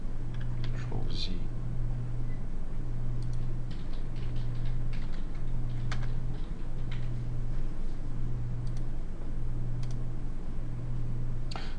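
Typing on a computer keyboard: irregular bursts of quick, light key clicks over a steady low electrical hum, fairly close and moderately quiet throughout.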